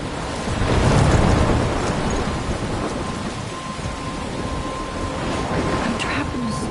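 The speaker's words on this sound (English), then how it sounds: "I'm trapped in a storm?" A storm in the video game Life is Strange: heavy, steady rain with a deep roll of thunder swelling early, then a continuous wash of downpour, loud and enveloping.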